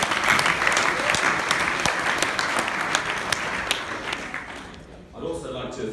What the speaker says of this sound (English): So I think another round of applause for David Dahl.